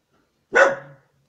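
A single sharp bark from a small pet dog at home, loud and close, with a short trailing tail and silence on either side.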